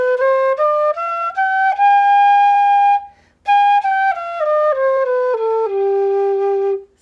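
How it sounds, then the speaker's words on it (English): A simple flute with no bottom hole plays a major scale up and back down, clear breathy tones one step at a time with a brief pause near the top, close and unaccompanied. "Here's my flute. It's a major scale."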